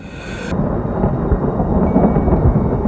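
Thunder from a nearby lightning strike, a loud deep rolling rumble that swells and sustains for several seconds over a rain-like hiss, with no voices.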